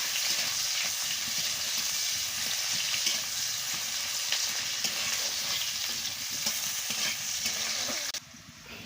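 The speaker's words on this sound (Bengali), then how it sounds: "এবার পেঁয়াজ কুচিটা দিয়ে দিচ্ছি। দিয়ে ভালো করে ভেজে নিচ্ছি।" Chopped onion sizzles steadily in a hot pan for a Bengali chorchori of cabbage, eggplant and potato, a dense continuous frying hiss at close range that cuts off abruptly near the end.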